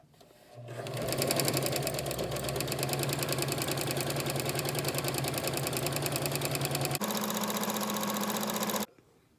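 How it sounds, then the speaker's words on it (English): A Kenmore 385 series sewing machine runs a decorative stitch, a fast even mechanical whir with rapid needle ticking that shifts pitch partway through before stopping, close and clear with no talking. "how to physically complete all 12 of the top decorative stitches with the Kenmore 385 series sewing machine"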